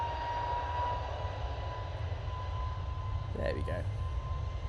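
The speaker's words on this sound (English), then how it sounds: "So, 2E coming in from Bridgetown using the 787-8 Dreamliner." A Boeing 787-8 Dreamliner arriving at Manchester Airport from Bridgetown, a steady low engine rumble held at moderate distance, with a person briefly speaking over it near the end.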